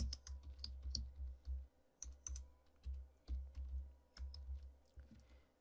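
Quiet keystrokes tap on a computer keyboard while PHP code is written, falling into uneven bursts of soft clicks with brief pauses, close up and fairly faint.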